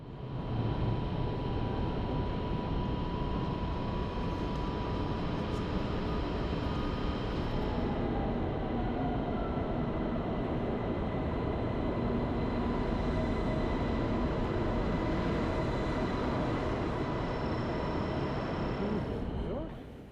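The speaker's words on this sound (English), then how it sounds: "So here's our train, the Polish Intercity Express" A Polish PKP Intercity Express passenger train gives off a loud, steady, broadband rumble and roar that continues unbroken for about twenty seconds, with no talking.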